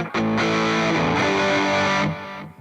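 Electric guitar solo tone through a Valeton GP5 distortion preset, a loud sustained saturated note that shifts pitch partway through and then fades out, played alone.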